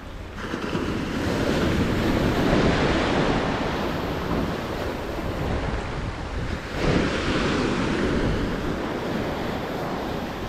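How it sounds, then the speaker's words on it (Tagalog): Sea waves surge and wash continuously along the Red Sea shore while strong wind buffets the microphone, a loud steady roar of surf and gusts with no voices. "Ito yung galaw ng tubig ngayon,"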